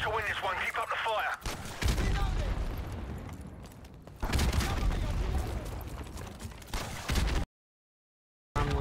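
Gunfire rages in Modern Warfare Remastered, loud dense bursts and booms filling the mix, with a voice speaking briefly early on and a short silent gap near the end.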